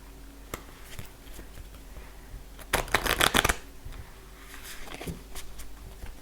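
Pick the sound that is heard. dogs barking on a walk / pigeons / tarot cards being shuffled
tarot cards being shuffled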